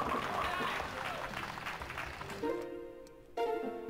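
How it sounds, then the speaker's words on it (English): A virtual crowd in the Wii Sports Resort bowling game cheers and applauds steadily, a dense roar that thins toward the end before a burst of game music and tones cuts in. "in here I've got a whole bunch of people cheering me on"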